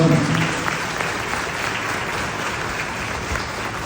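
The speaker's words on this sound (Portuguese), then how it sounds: "Vamos dar uma salva de palmas para os padres da cristã" An audience in a church applauds its priests during a Mass, dense sustained clapping that fills the space and holds steady throughout with no voices on top.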